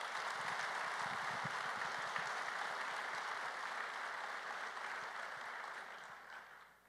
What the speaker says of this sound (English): just one more quick round of applause for those guys